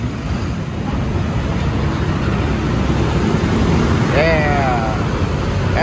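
Steady roar of dense street traffic in Bangkok idling and pulling away from a traffic light, a constant engine and road rumble with a short rising whine near the end.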